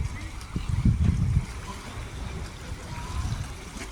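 River water sloshing and churning against small boats as a passing launch's wake rolls in on a Sundarbans waterway, low surging swells rising and fading close by, with a voice talking over it.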